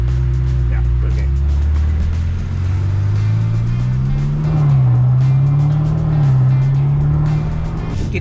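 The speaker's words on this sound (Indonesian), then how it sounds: "Kita jalan-jalan naik Ferrari di depan pabriknya Ferrari" A Ferrari driving past the Ferrari factory, heard from inside as a loud, steady engine drone whose pitch climbs and dips with gentle revving, with voices talking faintly over it.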